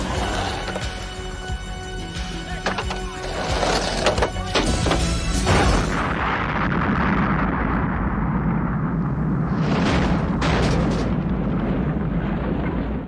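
Giant propane tank exploding and blowing up a warehouse in the film Gleaming the Cube, a massive roaring blast with crashing debris, then a long rumbling roar and a few later bursts.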